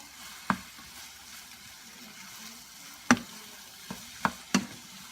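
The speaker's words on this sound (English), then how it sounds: "mixing up the scrambled eggs so we can have potatoes and egg" Spatula stirring scrambled eggs with cauliflower and onion in a pan, heard as a few sharp scraping knocks at irregular intervals over a faint background, quiet and close.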